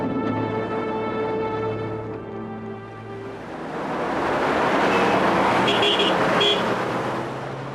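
Heavy road traffic on a congested street in Dubai, a dense, steady roar of many vehicles with sustained horn-like tones early on and a broad wash of engine and tyre noise building toward the end.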